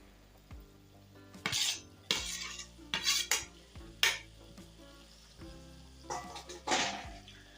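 A spoon stirs fried potatoes into spinach curry in a pan, giving irregular scraping and clinking strokes against the metal over a soft background sizzle, with no talking.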